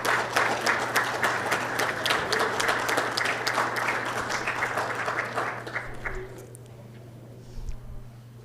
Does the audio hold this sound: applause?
yes